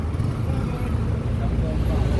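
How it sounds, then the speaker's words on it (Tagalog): Luxury sports cars' exhausts rumbling at a steady low level nearby, blended with general street traffic noise, while someone talks over it. "ang gaganda mga gawiks ng mga magagarang kotse"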